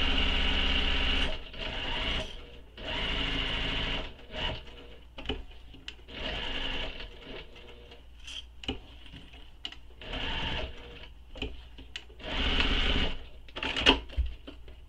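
A sewing machine runs long basting stitches around the layers of a squoval bag in bursts of steady mechanical whirring, separated by short pauses and small handling clicks, close and fairly quiet.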